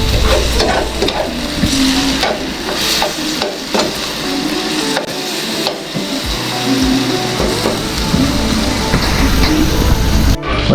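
Shrimp for Trinidad-style homemade shrimp wraps sizzle steadily in a hot pan, with repeated scraping and stirring knocks of a utensil over continuous loud frying, no talking.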